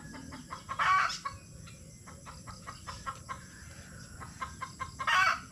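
Farmyard chickens clucking and a rooster crowing close by, with two loud crows bracketing a series of shorter clucks and calls over a low background murmur.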